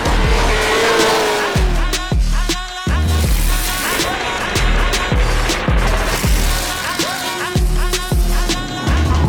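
Race car lapping a track during a first practice session, its engine loud and close, revving up and down repeatedly as it shifts, with faint tire noise underneath.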